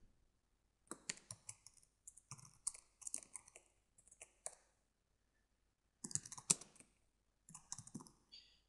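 Typing on a computer keyboard in separate bursts of rapid key clicks with short silent pauses, close and clear, with no talking.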